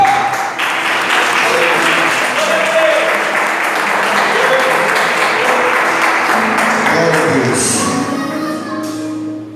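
A church congregation claps loudly and continuously for several seconds as worship singing and voices carry on underneath, the applause tapering slightly toward the end.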